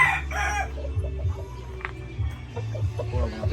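Caged fighting roosters crow loudly and close by, with overlapping calls and some clucking across a short stretch of farmyard noise.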